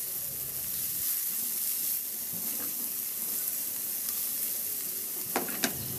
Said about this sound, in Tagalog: Magpainit muna ako ng mantika at igisa ko na rin yung bawang.